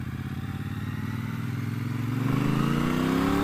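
A 2017 Triumph Bobber's engine is revved near wide open throttle, a close, loud pulsing motorcycle roar that climbs steadily in pitch over a few seconds.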